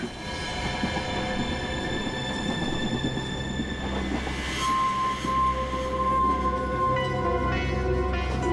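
A moving train rolls steadily with a dense low rumble of wheels on rails, broadband carriage noise and faint squealing tones rising partway through, continuous and close throughout.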